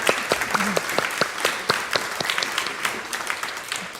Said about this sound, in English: give a round of applause for anybody who's volunteered